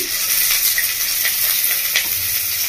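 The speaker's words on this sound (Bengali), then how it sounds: "এবার আমি তেলের মধ্যে দিয়ে দেবো রসুনের কুচি, সাথে দিয়ে দেবো পেঁয়াজ কুচি" Chopped garlic and onion hitting hot oil, a loud, continuous close-up sizzle and hiss with faint stirring.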